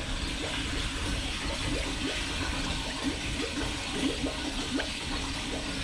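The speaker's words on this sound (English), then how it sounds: "Now air bubbles are coming out." A milk jug held under livestock water bubbles steadily as air escapes, a continuous gurgling wash with repeated soft glugs close by.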